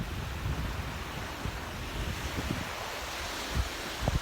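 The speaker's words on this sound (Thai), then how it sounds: "ลมแรงครับ" Strong seaside wind buffets the microphone over steady surf on a beach in Rayong, Thailand, a continuous loud roar with gusty low thumps throughout.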